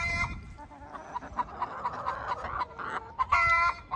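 A hen clucks repeatedly in a quick, rhythmic run of loud, close calls, rising into a sharper squawk near the end.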